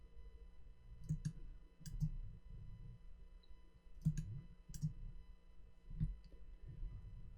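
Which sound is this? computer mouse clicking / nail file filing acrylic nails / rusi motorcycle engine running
computer mouse clicking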